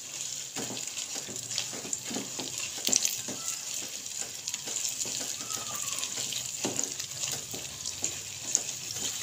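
Besan halwa with grated coconut and raisins being stirred in a pan, a steady soft scraping and sizzling texture with occasional spoon knocks, faint and continuous throughout.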